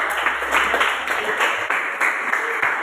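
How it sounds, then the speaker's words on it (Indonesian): Classroom applause for a student group, many hands clapping together in a dense, steady patter that runs the full few seconds at a moderate level. "Kita kasih tepuk tangan dulu untuk kelompok 3"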